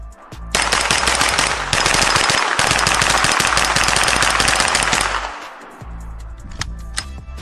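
Sustained bursts of rapid, loud automatic fire from an AK-pattern rifle in a commercial spot, a dense roar lasting several seconds before cutting off, followed by a few scattered clicks and knocks.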